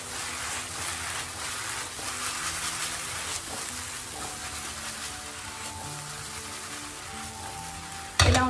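Courgettes sautéing in a hot pan, a continuous close sizzle with scraping stirs mixed in, ending in a sudden louder clatter.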